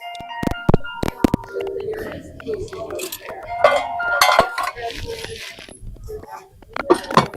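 Metal clanks and clinks as a lid lifter sets the heavy lid onto a cast-iron Dutch oven of shrimp jambalaya, with sharp scraping knocks spread through the clip and a person talking in between.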